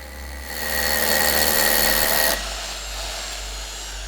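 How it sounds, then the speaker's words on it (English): A power drill whines up and bores an anchor hole steadily for a couple of seconds, then cuts off, leaving a lower humming tail. "Start by drilling the hole to the correct diameter and depth."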